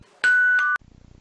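A single electronic doorbell chime sounds, used as a comedy sound effect: one sustained bright tone ending in a sharp ding, then silence with a faint rhythmic rattle.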